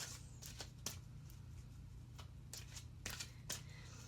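Tarot cards are laid face down into piles, making several soft, quiet slaps and shuffling flicks that come in a loose, irregular rhythm over a low steady hum.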